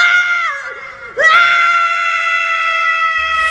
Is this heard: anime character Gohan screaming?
yes